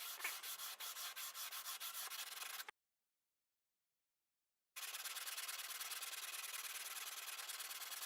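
A narrow sanding block rubs back and forth along a guitar fingerboard in quick, even strokes, a close, dry rasping that stops briefly and then resumes steadily.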